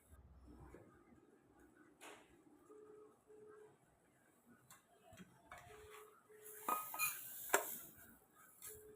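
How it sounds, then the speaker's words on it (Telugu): A ladle stirs semiya and sago payasam in a pot, giving faint, scattered metallic clinks and taps over a quiet room, growing busier and louder toward the end. "గరిటెతో కలుపుతూ చూసుకోవాలి ఉడికిందో లేదో"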